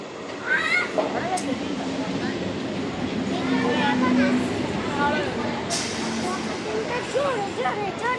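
A train pulls into a railway station platform, its steady rumble and squealing wheels running throughout over a busy crowd, with people talking nearby.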